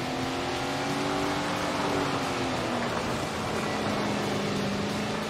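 Sprint car engine in Tony Stewart's Sprint Car Racing video game, a loud, continuous high-revving drone that shifts in pitch as the car accelerates and eases off.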